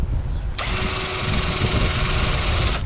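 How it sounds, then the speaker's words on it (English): A power drill bites steadily through a metal Unistrut channel for a bed rack, a loud continuous high whine that starts abruptly and holds for a couple of seconds before cutting off. "I'm gonna take it out and drill through it."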